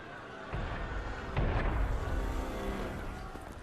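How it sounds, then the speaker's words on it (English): Cannon fire in Assassin's Creed Unity, a couple of dull distant booms rising out of low rumbling ambience, the second heavier and followed by a rolling tail. "That was cannon fire."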